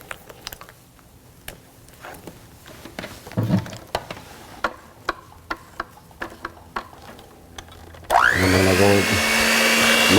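Scattered ticking and clicking come first, then an electric mixer abruptly whirs to life, loud and steady, as it starts beating black cake batter with eggs and brown sugar.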